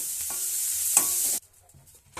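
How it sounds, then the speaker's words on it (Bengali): Bitter gourd slices fry in a wok of oil with salt and turmeric, a bright sizzle with one stirring scrape that stops abruptly after about a second and a half. "করলাগুলো ভাজা হচ্ছে।"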